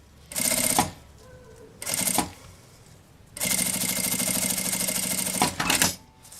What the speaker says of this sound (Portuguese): ponho na parte de baixo do zíper e passo outra costura